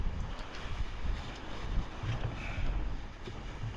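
Wind gusting against plastic masking sheet taped over a wheel for paint, a constant loud rumbling roar with soft flapping rustles, close to the microphone.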